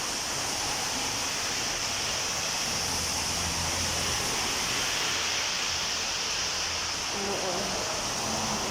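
Rain pouring outdoors in Unaizah, Qassim, Saudi Arabia, a dense steady hiss that fills the whole stretch with no breaks.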